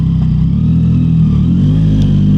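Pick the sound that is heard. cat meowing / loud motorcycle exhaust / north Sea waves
loud motorcycle exhaust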